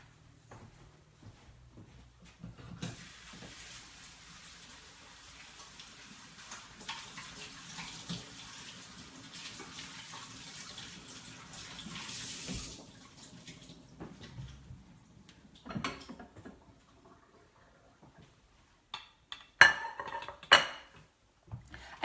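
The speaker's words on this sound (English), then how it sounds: "So I'm gonna go rinse these strawberries, and I'll be right back." Running tap water splashes steadily as strawberries are rinsed at a kitchen sink, a broad hiss lasting about ten seconds, with light clinks and handling noises before and after.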